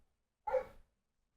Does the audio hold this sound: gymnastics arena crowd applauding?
no